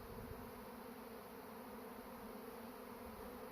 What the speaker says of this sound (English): This was a giant swarm. I mean, the bees flying everywhere.